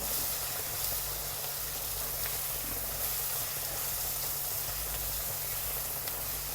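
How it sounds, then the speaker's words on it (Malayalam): Chicken masala being mixed in a pan for biryani gives a steady, close sizzle and steamy hiss throughout, with no speech. "ഒരു രണ്ട് ടീസ്പൂൺ ചിക്കൻ മസാല ഇതെല്ലാം കൂടെ നല്ല മിക്സ് ചെയ്യേ"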